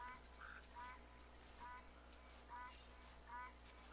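Ducks quack in short clustered bursts as ambient wildlife in the hunting game theHunter classic, set in Australian wetland terrain, fairly faint and repeating irregularly over a low background hum.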